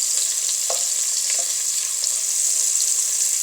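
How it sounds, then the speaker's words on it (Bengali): Shrimp and onion frying together in a pan give a steady, bright hiss with a few faint pops, constant and moderately close with no talking. "সাথে চিংড়ি মাছটাও আমি ভেজে নিচ্ছি"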